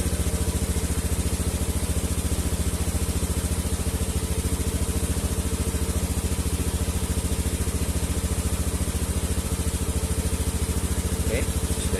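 Honda Scoopy FI scooter with a sputtering fuel-injection fault idling steadily at about 1700 rpm, a close, even, continuous engine drone with faint background voices.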